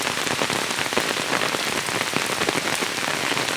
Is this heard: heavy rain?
yes